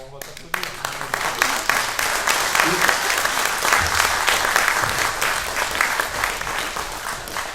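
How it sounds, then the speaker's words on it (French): An audience at a presentation for the GP de France Enduro world final in Langeac breaks into applause, dense clapping that starts abruptly and stays loud and even throughout. "Bon, on va t'applaudir."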